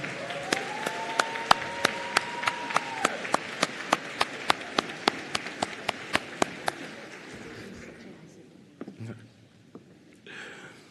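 Graduation ceremony audience applauds healthcare graduates, a broad wash of clapping with one sharp, regular clapper close by, the whole applause thinning and fading toward the end.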